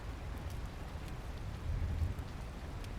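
Steady heavy rain pours down in a dense, continuous hiss with a low rumbling undertone, swelling slightly midway, with no voices.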